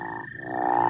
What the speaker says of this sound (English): Some American toads in the background.